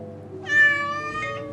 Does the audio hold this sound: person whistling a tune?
no